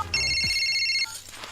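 A telephone rings after a call is placed, one long electronic ring tone lasting about a second, clear and close, then quiet.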